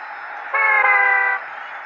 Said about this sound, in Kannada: ಹಾರನ್